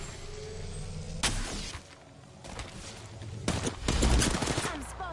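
Gunfire in a shooter video game, with bursts of rapid shots and sharp blasts that come in clusters over a continuous battle din, loud and close.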